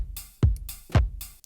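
Electronic beat: a deep kick and a snappy Foley snare and clap alternate with bright hi-hat hits, looping at a steady mid tempo, loud and close with no voices.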